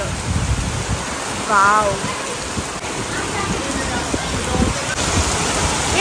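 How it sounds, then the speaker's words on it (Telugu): Heavy rain pours at a farmhouse, a steady, close wash of broadband noise that never lets up, with a voice briefly exclaiming over it. "వర్షం ఇంకా పడుతూనే ఉంది. మంచిగా వర్షం పడుతుంది అసలు."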